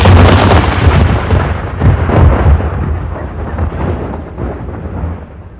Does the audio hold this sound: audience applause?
no